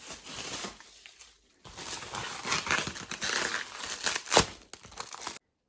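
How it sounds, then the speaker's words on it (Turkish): Stretch film wrap on a large package is sliced and pulled open with a knife, making close crinkling, rustling and tearing sounds in uneven bursts with a short pause partway through. "Şöyle şuradan bir bıçakla streç filmini açalım."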